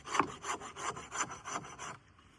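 A Work Tuff Gear V44X survival tool is scraped along wood like an old hand planer, producing about seven rhythmic rasping strokes, close and moderately loud, before trailing off into quiet.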